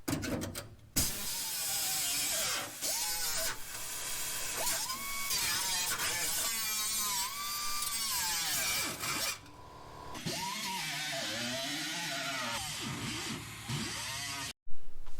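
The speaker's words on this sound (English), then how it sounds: "after about 25 minutes worth of grinding or cutting with a Ziz wheel, this is what you get" A zip wheel cutting and grinding into the steel trunk floor of a 1969 Chevy Nova, a loud, close rasping whine that rises and falls in pitch as the wheel loads and frees, with brief pauses.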